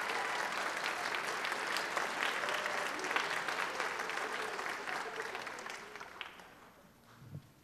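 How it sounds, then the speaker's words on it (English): An audience at a school jazz concert applauds the sixth grade band director onto the stage, sustained clapping that gradually thins and fades over several seconds. "help me welcome to the stage our sixth grade band director, Mr. Jeremy Stringer"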